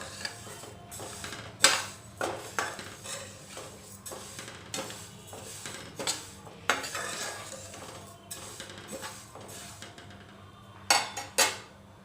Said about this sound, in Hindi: अब हम इसमें मूंग दाल को डालेंगे। फ्लेम को लो कीजिए और इसे भूनिए।